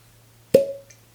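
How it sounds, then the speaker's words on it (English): A single sharp cork pop comes from a bottle of 10-year-old MGP rye whiskey at 100 proof. It is close and clean, with a short hollow ring that fades quickly against a faint low hum. "good cork pop"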